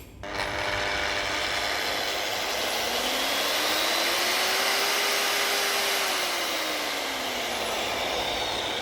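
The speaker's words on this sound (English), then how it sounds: "this is a BM-18 beveling machine. It is basically a 9-inch grinder with a speed controller on it and a 45-degree beveling head" A BM-18 beveling machine, a 9-inch grinder with a speed controller and 45-degree beveling head, whines loudly and steadily for the whole stretch, its pitch rising and falling slightly as it runs.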